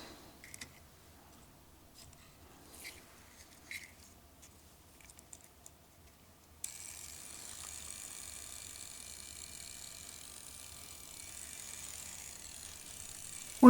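A small Faller model car's electric motor runs from the midpoint on as a steady, faint mechanical whir, after a quieter stretch of light ticking and clicking.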